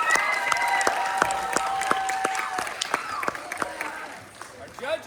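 Audience applause and cheering at a high school improv match between Kamiak and Bothell, with rhythmic claps and bright shouts over the crowd and voices talking along, tapering off toward the end.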